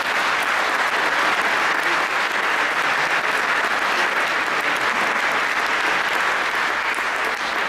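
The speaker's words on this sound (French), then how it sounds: "Je vous demande de l'applaudir." An audience applauds at a secularism prize ceremony, honouring the exiled Turkish pianist Fazil Say: steady, dense clapping that is loud and continuous throughout, with no break and no talk.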